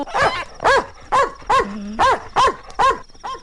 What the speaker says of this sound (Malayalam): പട്ടിയുടെ അല്ലേ കേട്ടത്